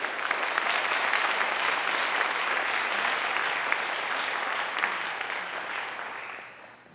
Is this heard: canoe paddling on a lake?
no